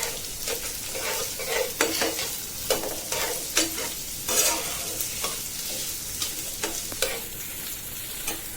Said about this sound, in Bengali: কাঁচামরিচ তেলে ভেজে নিচ্ছি।